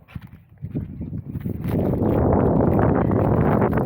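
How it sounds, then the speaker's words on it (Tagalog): Strong wind buffets the microphone outdoors, starting with gusty thumps and rising into a loud, continuous rumbling roar that dominates the sound. "Ang lakas ng hangin."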